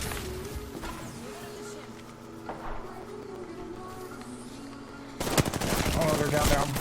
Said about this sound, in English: Oh, somebody's shooting.